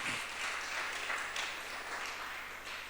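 A church congregation claps continuously in praise of Jesus during a family seminar, a dense, even wash of many hands filling the room with no voice on top.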